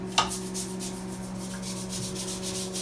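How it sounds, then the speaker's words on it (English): Toilet brush scrubbing around the inside of a toilet bowl, a quick repeated rubbing scrape close up over a steady hum. "basically want to scrub all the way around"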